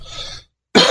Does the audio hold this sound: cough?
yes